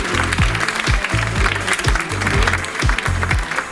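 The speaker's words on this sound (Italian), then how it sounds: "Un grande applauso." Audience applause at a beauty pageant bikini and gown show, loud clapping under a strong pulsing music beat with regular thumping bass hits throughout.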